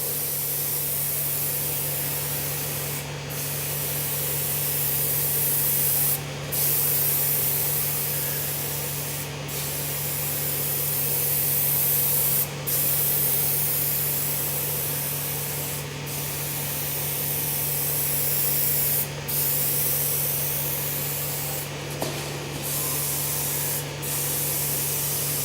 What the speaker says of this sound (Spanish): en capas sucesivas ya podéis empezar a acercar más el spray